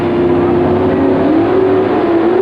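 A drag racing car at the 1988 NHRA Springnationals revs at very high RPM, one loud continuous engine howl with a steady, slightly wavering pitch throughout, close and dominant with no talk.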